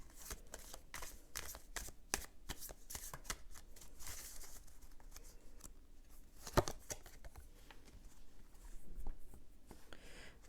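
Soft papery riffling and flicking of tarot cards being shuffled and handled, a run of quick, close, light strokes with a few sharper snaps, played alone at low volume.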